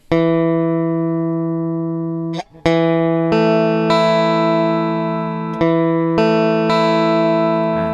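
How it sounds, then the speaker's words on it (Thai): A single plucked phin lute string tuned to low E rings out low and steady, re-plucked several times, each note sustaining and slowly fading before the next pluck. "สายสามเสียง E ครับ E ต่ำนะครับ"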